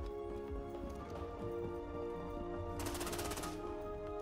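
Gunfire in the video game XDefiant comes as a quick automatic burst of rapid shots near the end, set over a continuous game soundtrack and ambient hum.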